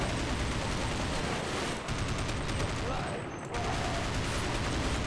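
Dense, continuous rapid gunfire from the zombie mode of the shooter game Counter-Strike Nexon: Zombies, loud and unbroken apart from one brief dip.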